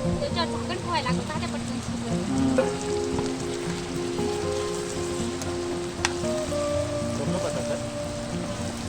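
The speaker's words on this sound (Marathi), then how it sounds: "पुढं मस्त पाऊस पडतोय" Steady rain falls at Vadoli waterfall on the Gujarat–Maharashtra border, a dense constant patter and wash with a loud, even texture, while people talk over it.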